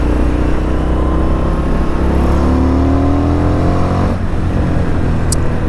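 A 2020 Indian FTR 1200 S Race Replica motorcycle accelerates hard, its loud, close engine note climbing steadily in pitch for several seconds without letting up.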